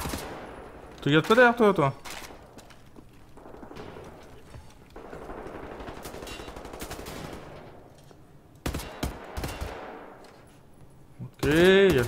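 Gunfire in the video game Wolfenstein The New Order, short bursts of loud automatic shots separated by quieter game sounds, with a person talking between the volleys.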